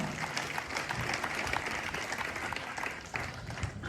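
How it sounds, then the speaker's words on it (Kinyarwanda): Applause from a crowd at a football match for players with disabilities in Burundi, honouring the Kashitere leader, with steady clapping that holds for the whole stretch alongside a murmur of voices. "umurongozi wayo wa Kashitere mumumpera amashyi"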